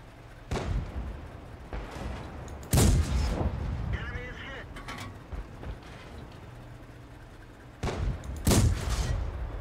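Heavy tank cannon shots in a tank combat game, several sharp booming blasts spaced a few seconds apart, with engine rumble and a faint voice in between.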